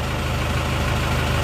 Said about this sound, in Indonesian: Kita tunggu sampai mesin panas dulu.